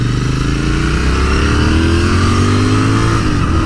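A 2019 Royal Enfield Interceptor 650 motorcycle engine revs steadily and loudly close by, its pitch climbing and settling with a throaty, continuous drone and no voices.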